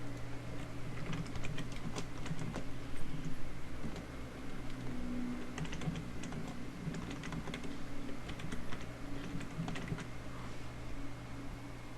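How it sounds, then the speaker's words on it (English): Fingers typing on a computer keyboard, a quiet, steady patter of close clicks and taps running throughout over a faint background hum, no voices. "please type the title for the new post. Then type the new message."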